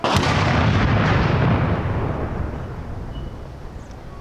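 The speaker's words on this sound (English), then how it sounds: "right here we have the traditional start with the cannon fire" A traditional cannon fires once to start a fishing tournament, a loud close boom whose rumbling echo fades away over several seconds, with no voices over it.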